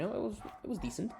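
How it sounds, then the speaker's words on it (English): A pet dog gives short yips and whimpery barks somewhere in the room behind a person speaking. The barks come in quick bursts, partly masked by the voice. "Sorry if you hear my dog barking in the freaking background."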